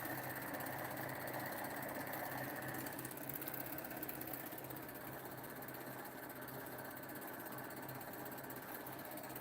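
Pulse motor with a nine-magnet rotor spinning steadily, driven through a capacitor bank by another motor acting as its power supply; a continuous fast mechanical hum and buzz, faint and even throughout with no speech.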